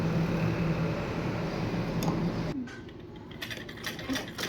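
A sewing machine stitches a folded seam on a princess-cut lehenga blouse, running steadily with a close mechanical clatter that turns more broken and tapping partway through.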